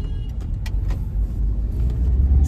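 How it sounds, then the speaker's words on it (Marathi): Road traffic in a residential housing society where road digging is underway: a steady low rumble of cars passing close by, with faint clicks and no talking. "आमच्या सोसायटीमध्ये हमेशाप्रमाणे खड्डाखुड्डी चालू आहे त्यामुळे सगळं ट्रॅफिक होत आहे"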